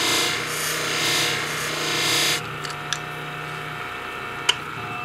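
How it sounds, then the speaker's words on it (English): Salon shears get a convex edge sharpened with steady, even rasping strokes across the blade for about two seconds. Then comes quiet, with a few small ticks and one sharp metallic click. "I'm doing even pressure all the way across the blade this time."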